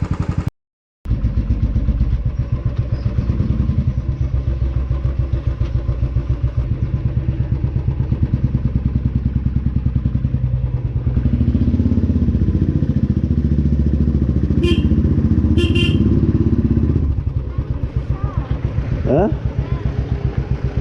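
A motorcycle engine rumbles steadily while riding, loud and close, with a brief dip in pitch near the end and faint talking underneath.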